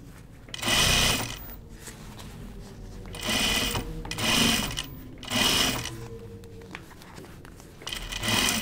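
Sewing machine tacking stiffened fabric and vinyl at the edge, several close bursts of rapid stitching separated by brief pauses, with quiet handling noise in between.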